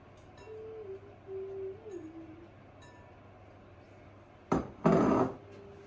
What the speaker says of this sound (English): The inners from our carved pumpkins we're going to put in the pot to simmer. So we're just scooping that all in there.